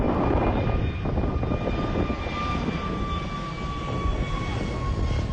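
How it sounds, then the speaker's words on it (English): A continuous loud roar of airplane engines with a steady whine, heard from inside the cabin during an aborted landing in fog at the Faroe Islands, holding at a constant level throughout. "Yes, that's our plane not landing because the pilot said it was too foggy"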